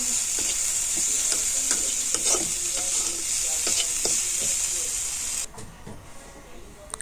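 Chopped chilli, ginger and garlic frying in a little oil, a loud close sizzle with scraping stir strokes throughout that drops sharply near the end, with brief voice fragments underneath.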